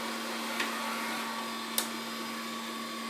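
An Ecovacs T90 Pro Omni robot mop vacuum hums steadily at close range, with a faint tonal whine and two brief clicks or knocks.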